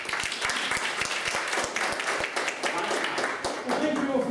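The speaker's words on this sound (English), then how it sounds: "let us applause for our speaker" Audience applause fills a lecture room after a speaker's talk, a dense close patter of many hands clapping with voices murmuring underneath, fading slightly toward the end.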